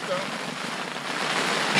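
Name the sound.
rain at hunting camp in British Columbia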